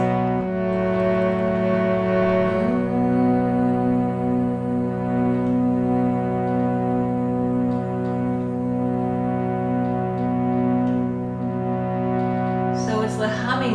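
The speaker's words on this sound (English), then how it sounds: "So it's the humming sound" A single voice holds a long, steady nasal M hum from an Om chant, sustained evenly for over ten seconds before a brief breathy break at the end.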